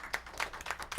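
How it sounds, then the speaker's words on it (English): Brief burst of studio audience applause on a holiday talk show, a few quick claps in about a second. "round of applause"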